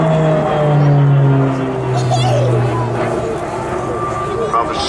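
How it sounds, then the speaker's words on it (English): A turboprop aircraft at an airshow in Abingdon gives a steady, smooth engine drone whose tones slowly slide downward as it passes. It is heard throughout, partly under an announcer's commentary. "Rather smooth, classic turboprop sound."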